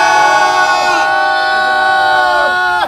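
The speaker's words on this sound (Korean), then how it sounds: "여러분 다 같이 3초간 함성" A crowd at a political rally and march outside the presidential residence in Hannam-dong, Seoul, lets out one loud, sustained collective shout and cheer, a close, steady roar that cuts off abruptly at the end.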